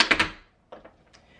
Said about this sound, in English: you can learn a double pullback, which looks and sounds like this